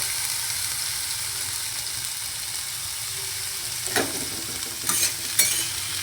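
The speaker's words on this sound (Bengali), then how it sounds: "এখানে হচ্ছে একটু উচ্ছেগুলো আগে ভাজা ভাজা করে নেব" Bitter gourd pieces fry in a pan with a loud, continuous close-up sizzle. Toward the end there are a few brief stirring scrapes.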